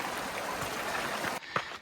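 A creek flowing through a canyon on a stormy November hike, a broad steady rushing wash that drops away near the end to leave fainter splashes.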